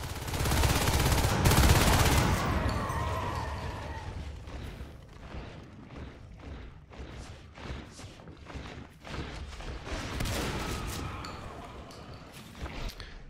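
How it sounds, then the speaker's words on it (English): Shotgun fire from marines in the sci-fi shooter Natural Selection 2, a loud opening burst followed by repeated sharp blasts and clatter of combat through the rest, with faint game noise between shots. "These Marines are deadly accurate with these shotguns."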